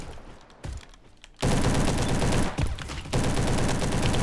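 Sustained rapid bursts from the SM-03 submachine gun in the Roblox game Bad Business, loud and dense, with a short burst, a brief pause, then long continuous fire broken by one gap.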